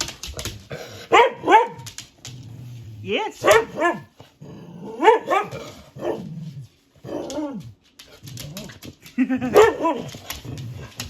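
A pet dog barks and growls in short bursts with whimpering between them, close and fairly loud, while a person talks to it in between the barks.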